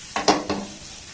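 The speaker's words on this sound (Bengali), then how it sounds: "তিলটা দেওয়ার পর আবারও সমস্ত উপকরণ একসাথে একটু আমি নাড়াচাড়া করে নেব" A spoon scraping through vegetable momo filling with sesame seeds in a hot pan, two or three quick close strokes with a faint sizzle beneath, then a quiet tail.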